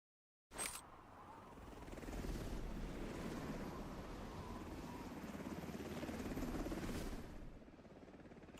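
A helicopter landing in a video game, its rotor roar coming in abruptly and holding steady and loud for several seconds before tapering off near the end, with no talk over it.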